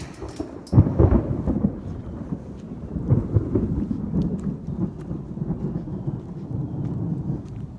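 A thunderstorm with rolling thunder and steady rain, a loud crack near the start giving way to continuous low rumbling over the hiss of rainfall, with no voices.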